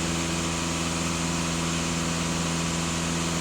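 A Volkswagen Passat B8 with a 2.0 TDI diesel engine idles steadily and close, its even low hum and faint vibration running on without a break and without talk.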